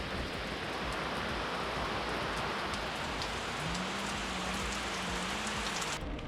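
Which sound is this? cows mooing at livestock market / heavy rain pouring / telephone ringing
heavy rain pouring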